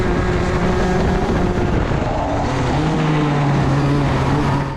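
A Rotax DD2 shifter kart racing at Karting Genk, its engine droning loud and close and rising in pitch as it accelerates along the track, with no voices.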